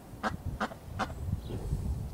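Ducks quack near a small pallet-built coop: three loud, evenly spaced quacks up close, then softer muttering calls over low background noise.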